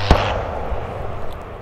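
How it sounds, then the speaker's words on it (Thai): A single sharp bang, like an electrical short or an exploding transformer, cracks once at the start in an outdoor flower park in Khao Yai, then fades into a diffuse outdoor hum. "ทุกคนได้ยินเสียงอะไรไหมอย่างกับไฟช็อต หม้อแปลงระเบิดแล้วมั้ง"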